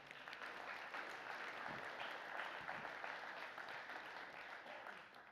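A church audience applauds during a service, producing a steady, even wash of many hands clapping that sounds soft and somewhat distant and carries on without a break.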